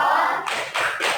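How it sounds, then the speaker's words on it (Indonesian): Classroom group doing a thumbs-up clap routine, three quick bursts of clustered hand claps from many people in a row, close and lively. "Kita kasih tepuk jempol."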